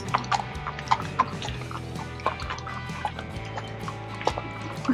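Hooves clip-clop at a walk on a Texas cattle drive, with irregular light knocks over a low steady background rumble, fairly faint and without talk.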